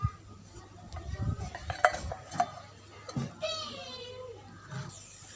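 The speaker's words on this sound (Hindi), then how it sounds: "ਇਹਦੇ ਉੱਤੇ ਹੁਣ ਅਸੀਂ ਰੱਖਣ ਲੱਗੇ ਹਾਂ कढ़ाई" A kadhai (wok) is set down on the stove while cooking crispy okra (bhindi), giving metallic clanks and clinks at close range among other kitchen clatter, with people talking nearby.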